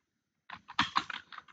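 Short burst of typing on a computer keyboard, a quick irregular run of crisp key clicks after a moment of silence, close and fairly quiet with no talk.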